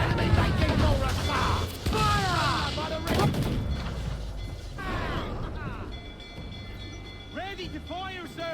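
Ship cannons roar during a naval battle in Assassin's Creed IV: Black Flag, heavy booming blasts and rumbling gunfire repeating across the scene under shouted voices and a continuous battle din.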